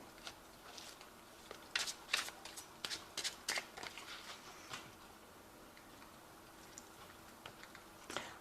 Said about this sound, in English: I have shuffled this deck,